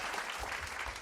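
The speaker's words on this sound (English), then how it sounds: "Let's clap it up for that first off" A short burst of clapping from a small group celebrating Super Bowl news, brief and fairly soft.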